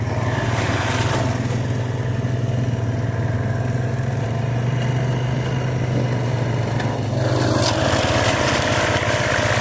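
A rough cut mower mows a field behind a tractor, a steady loud engine drone with mowing rumble that swells and shifts near the end, no talk.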